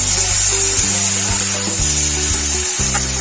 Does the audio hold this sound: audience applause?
no